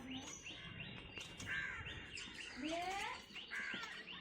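Pet finches kept alongside chickens in a sunny spot at home chirp in quick, faint bursts of high tweets and short rising calls, repeating every half second or so with no voices.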